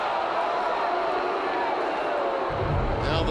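Ballpark crowd at a Detroit at Boston baseball game reacting with a steady, loud murmur to an inside pitch called a ball on a full count, a dense wash of many voices that swells slightly near the end.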